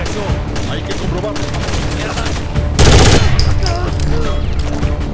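Automatic gunfire in the shooter game Rainbow Six Vegas, a rapid burst of loud shots over continuous game noise, with brief chatter and other effects around it.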